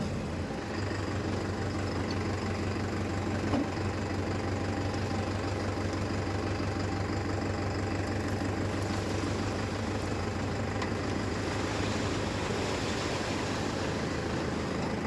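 A Mahindra Yuva Tech+ 585 tractor engine runs at a steady, rumbling idle up close, holding an even diesel drone throughout with only slight rises in pitch.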